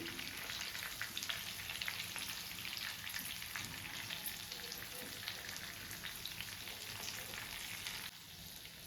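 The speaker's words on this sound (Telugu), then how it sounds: "ఇలా నెక్స్ట్ సైడ్ అన్ని పక్కలా కూడా సమానంగా వేగేటట్టుగా వంకాయని కొంచెం ఇలా అటు ఇటు జాగ్రత్తగా కలుపుకోవాలి" Stuffed brinjals fry in hot oil in a pan and are stirred now and then, giving a steady, dense, close sizzle that crackles continuously throughout, with no talking.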